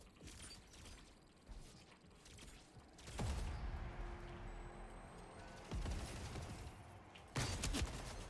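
Meridian SMG in a first-person shooter, bursts of rapid gunfire with mechanical clatter and rattling, several louder volleys rising over a busy background, fairly close and moderately loud.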